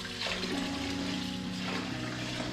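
Lukewarm water pouring and swirling over rice as it is rinsed in a pot for plov, a soft, continuous splashing trickle heard quietly and alone.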